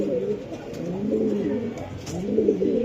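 Racing pigeons coo in low, throaty repeated calls, close by, with faint background murmur.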